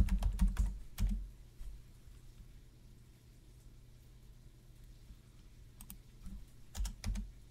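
Bursts of clacking computer-keyboard keystrokes come in short clusters at the start, around one second and near the end, with a quiet low hum between them.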